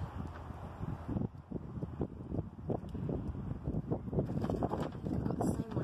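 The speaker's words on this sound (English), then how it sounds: "The wind's blowing it." Wind gusting outdoors around clothing, a steady rushing roar with microphone buffeting throughout, close and fairly loud.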